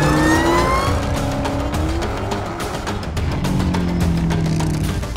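A Dodge Challenger SRT Hellcat Redeye Widebody roars loudly and steadily in its aggressive drive mode, a deep continuous engine growl with rising revs, close by and alone without talk.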